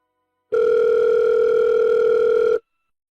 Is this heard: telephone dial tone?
yes